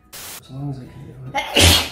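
A single sharp sneeze bursts out loud and close at the end, right after a short stretch of indoor talk.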